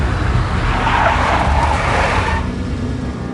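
A big black Mercedes from the Max Payne video game skids, a loud continuous rush of engine and tire noise lasting a few seconds before easing slightly toward the end.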